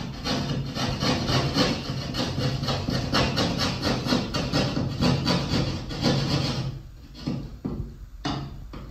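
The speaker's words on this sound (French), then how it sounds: "vous venez limer un peu là, et limer un peu là" A homemade wooden climbing hold being filed by hand, rhythmic rasping strokes repeating steadily up close, then slowing into a few scattered scrapes near the end.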